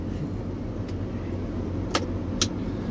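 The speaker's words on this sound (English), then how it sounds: "So the combine is coming up." A combine harvester works in a field at harvest's end, a steady low engine rumble and drone throughout, with a couple of short sharp clicks near the end and no talking.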